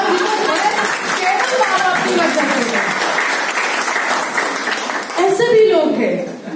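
An audience at a distributor training session breaks into applause, a loud, continuous patter of many hands lasting several seconds while a voice talks over it.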